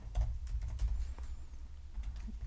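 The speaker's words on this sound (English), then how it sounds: "So I'll just type in the name of my app," Quick, soft clicks on a computer keyboard as an app name is typed, a close, brief flurry of keystrokes with a short pause partway through and no voices.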